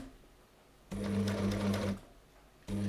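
An overlocker stitches fabric in two bursts, a steady close mechanical hum lasting about a second each, separated by a quiet pause, with the second burst starting at the end.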